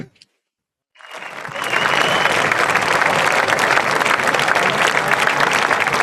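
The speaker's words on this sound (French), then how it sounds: "Donc on peut les applaudir." An audience at a contest launch event applauds. The clapping starts abruptly after a second of silence, builds quickly and stays loud and dense to the end.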